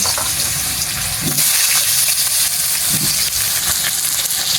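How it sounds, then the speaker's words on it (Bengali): Potatoes dropped into hot oil in a wok fry with a loud, dense, steady sizzle, nearby, with a couple of faint scraping touches and no talk. "এবারে কড়াইয়ের তেল আমার গরম হয়ে গেছে তেলের মধ্যে আমি আলুগুলো দিয়ে দিচ্ছি"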